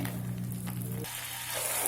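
Masala with kasuri methi roasting in a pan for matar paneer, giving a steady close sizzle and crackle that runs without a break and with no talking over it.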